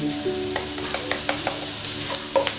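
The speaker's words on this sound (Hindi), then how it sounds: "इसको मिक्स कर लें अच्छी तरह से ताकि ये भी थोड़ी सी भून जाए" Chicken liver frying with salt and turmeric over a medium flame, heard as a steady close sizzle broken by light clicks and scrapes as it is stirred.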